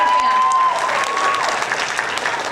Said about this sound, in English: Give them another huge round of applause